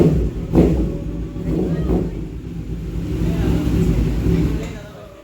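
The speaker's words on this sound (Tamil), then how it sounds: "பைக்கோட சவுண்டு பார்த்திங்கன்னா வேறு லெவல், இங்கேருந்து சென்னை வரைக்கும் கேட்டுச்சு." A 900cc sports motorcycle engine revs: a low, rumbling roar that swells, holds and fades, with people talking over it.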